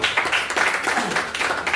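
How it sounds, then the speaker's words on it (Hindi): Audience applause for the IMC systems team, a steady wash of many hands clapping at a team event, continuous and fairly loud throughout. "एक जोरदार ताली होनी चाहिए आईएमसी के लिए"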